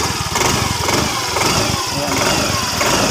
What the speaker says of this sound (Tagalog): Napakatahimik ng makina niya guys.